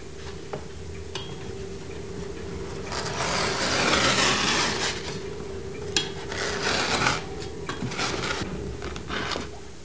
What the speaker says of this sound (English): the surplus rushes are trimmed off.